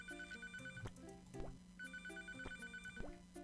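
A telephone rings in the video game Papa's Pizzeria Deluxe, with repeated electronic ring bursts over looping game music and clicky sound effects, steady and moderately loud.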